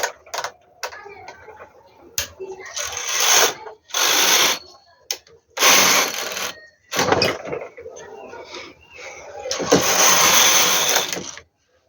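Machine knitting of 2-by-1 rib rows for a baby romper: repeated loud clattering, ratcheting carriage passes, each a second or two long, separated by short quiet gaps.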